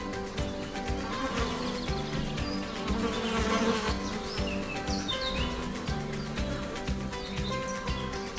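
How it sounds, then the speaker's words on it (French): Flies buzz steadily and close by around a golden eagle nest, a droning hum with occasional faint chirps in the background, no voices. "L'aiglon est harcelé par les mouches qui perturbent aussi le sommeil de la chouette."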